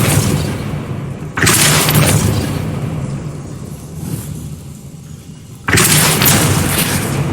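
A Depulso spell in Hogwarts Legacy fires as two loud, sudden booming blasts several seconds apart, with a rumbling game background between them.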